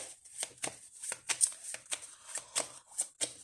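Illustrated cards being shuffled by hand, a quick run of soft riffling flicks and slaps in uneven bursts, close but fairly quiet, with no talking.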